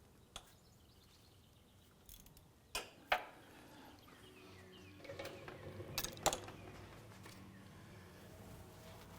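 A ratchet loosens the pulley bolt during a timing belt and water pump job on a 2001–2005 Honda Civic. Faint, scattered metallic clicks and a few sharper clacks stand out against a quiet garage.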